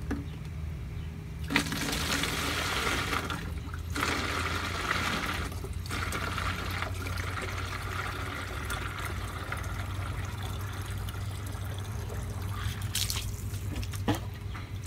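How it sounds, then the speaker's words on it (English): A garden hose runs water into a 1 gallon container, giving a steady, close rushing stream that continues throughout with a few brief breaks and clicks. "I'm going to measure how long it takes to fill 1 gallon of water."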